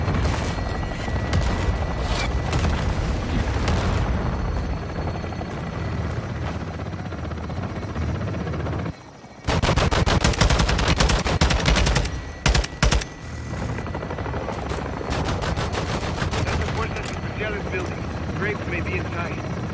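An aerial gun run in Call of Duty Modern Warfare 2 tears through the scene: loud bursts of rapid machine gun fire mixed with helicopter rotor roar, broken by brief drop-outs, with voices talking over the action.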